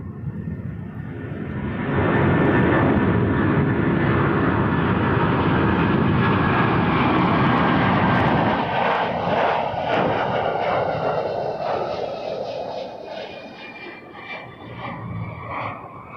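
Air Transat Airbus A330 jet taking off at Toronto Pearson Airport, a loud, broad engine roar that swells quickly, holds at full thrust, then slowly fades as the aircraft climbs away.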